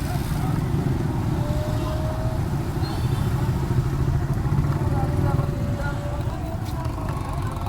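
Many motorcycles on a group ride around Antipolo, including a Honda Rebel 500 and a 2020 NMAX, make a continuous mid-range engine drone and rumble under faint background voices.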